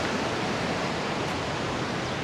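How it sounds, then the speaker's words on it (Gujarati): The Alaknanda river flows far below in the mountains near Badrinath. It makes a steady, unbroken rushing roar of water that stays even throughout, with no voices. "નીચેમાં અલકનંદા જાય છે"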